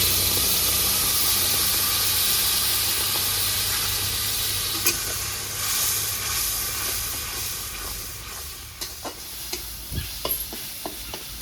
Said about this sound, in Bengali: তেল গরম হয়ে গেছে, দিয়ে দেবো শুকনো লঙ্কা, গোটা জিরে, কাঁচা টমেটো, কাঁচা লঙ্কা পেস্ট করা দিয়ে দেবো